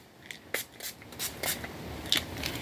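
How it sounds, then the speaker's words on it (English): Several short hissing bursts of Hard Candy Glow setting spray, close and fairly quiet, spaced irregularly with brief pauses between them. "so now for setting spray. Hard Candy Glow Setting Spray."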